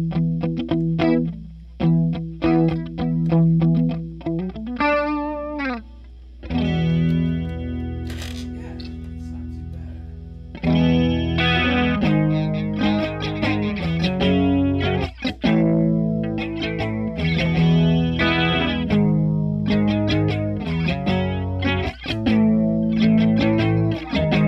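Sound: guitar through DOD FX-64 Icebox stereo chorus pedal

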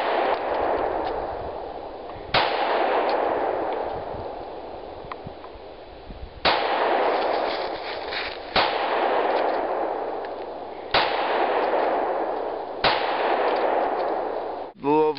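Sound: pistol gunshots

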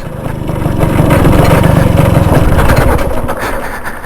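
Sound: vintage motorcycle engine running

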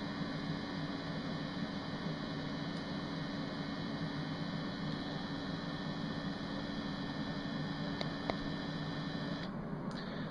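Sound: IQAir HealthPro Plus air purifier running white noise

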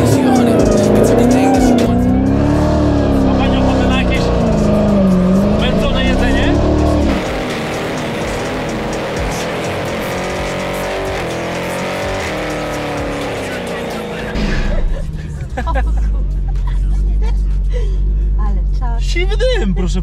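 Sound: Dodge Hellcat Redeye 808 HP car accelerating hard

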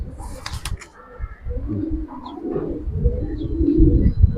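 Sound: khaki Giribaz pigeon cooing

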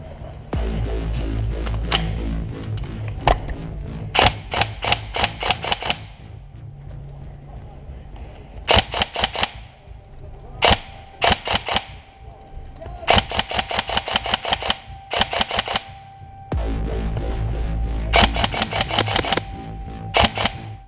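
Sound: airsoft gun shots, Tokyo Marui Mark 18

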